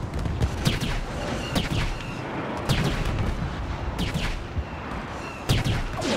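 Repeated airstrike explosions and heavy booming gunfire in the Star Wars Battlefront video game, a dense barrage of blasts rolling through the full clip with no talk.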